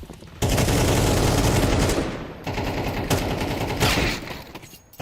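Loud, sustained automatic AK rifle fire in a competitive shooter match, long dense bursts with brief gaps, close and continuous.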